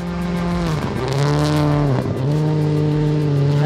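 Factory Subaru rally car engine running flat out, loud and close, with a sustained rasping drone that drops sharply at two gear shifts before pulling hard again, no voices.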